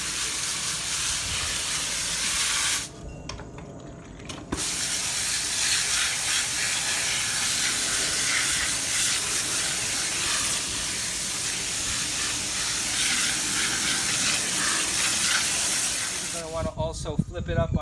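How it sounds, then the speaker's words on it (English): A garden hose sprays a hard, steady stream onto a pool filter cartridge, loud continuous hissing that briefly cuts out twice, with no clear talk over it. "spray directly down inside of all those fingers to get everything hosed out of there"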